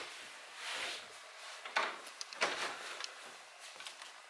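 Mirrored doors in an abandoned mansion are tugged but stay stuck, giving several muffled wooden knocks and rattles in an irregular run, fairly faint and close, with no talking.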